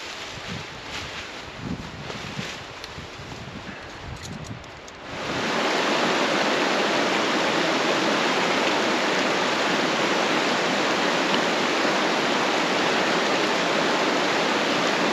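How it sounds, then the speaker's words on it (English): Hellroaring Creek in Yellowstone flowing past a backcountry camp, a broad steady rush of water that starts quieter and, after about five seconds, swells into a loud constant roar filling the rest of the recording. "Here's a good look at Hellroaring Creek right in front of our camp."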